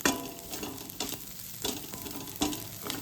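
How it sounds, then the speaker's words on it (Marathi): Ghati masala fries in hot oil with a soft continuous sizzle, broken by several sharp scrapes of a spoon against the pan as it is stirred, close up and without talk. "आता हा घाटी मसाला पण आपल्याला छान परतून घ्यायचा आहे"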